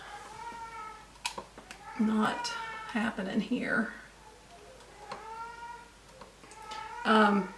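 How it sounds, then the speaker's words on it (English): A cat meows repeatedly, several drawn-out, whiny calls close by, with a person speaking briefly between them. "you all probably have been hearing my cat for a while"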